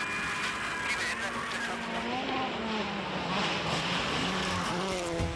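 A rally car runs a Rally Finland 2008 stage, its engine note rising and shifting through gears, heard under a commentator's talk with steady wind and road noise.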